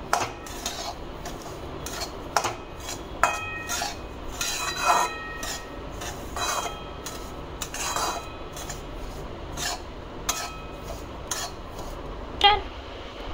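A karanji filling of semolina and poppy seeds roasts in a hot kadhai, with a metal spoon repeatedly scraping and clinking against the pan in an uneven rhythm, close and clear, with no voices.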